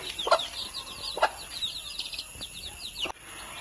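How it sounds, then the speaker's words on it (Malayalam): Free-range country hen clucking outdoors with her chicks after being let out, giving repeated soft clucks with high chick peeps and a brief wing flutter, nearby and moderately loud. "കോഴി പുറത്തിറങ്ങിയതിന്റെ ഒരു സന്തോഷം"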